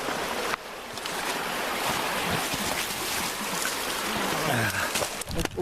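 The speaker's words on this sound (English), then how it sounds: "Usually this creek's half dry anyway." A creek flows in the open, a constant, fairly loud rushing and gurgling of water that fills the whole stretch with no talking.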